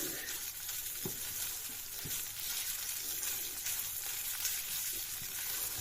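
Ground Thai curry chili paste sizzling steadily in hot oil for a sweet-sour-spicy fish dish, a continuous close frying hiss broken by a few faint stirring knocks, with no talk.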